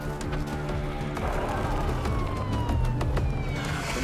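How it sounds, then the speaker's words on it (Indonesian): Police car siren sounding in a tense street scene, a rising and falling wail heard across the whole stretch under a dense, noisy mix with rumbling and scattered knocks, with no clear speech. "mereka semua bubar setelah mendengar sirene polisi"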